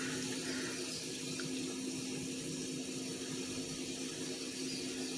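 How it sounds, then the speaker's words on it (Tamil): Water pours steadily into a Chettinad-style village fish curry mixture and is stirred in, a continuous close rushing and splashing with no pauses. "தண்ணி சேர்த்து நல்லா கரைச்சி விட்டுக்குவோம்"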